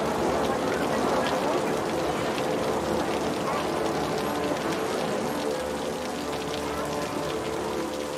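Steady rain falling in the city-building game Cities: Skylines, a constant broadband hiss with pattering drops that holds at an even level throughout, heard as ambient game sound.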